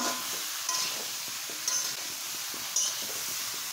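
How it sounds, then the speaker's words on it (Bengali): Eggplant, potato and drumstick pieces frying in oil in a pan make a constant hissy sizzle, broken by brief stirring clinks roughly once a second. "এখানে বেগুন, আলু আর সজনে ডাঁটাটা ভেজে নেব খুব ভালো করে।"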